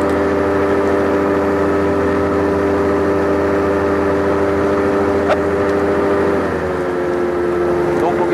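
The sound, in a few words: Weedhopper ultralight aircraft engine in flight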